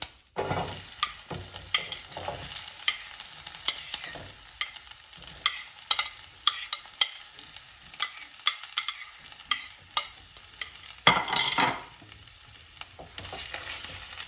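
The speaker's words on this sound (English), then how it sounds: "We'll saute the onion till it gets the brown color." Onion sautéing with ginger garlic paste in a pan for sev bhaji, a steady close sizzle broken by frequent sharp scrapes and clinks of a stirring spoon, running continuously without talk.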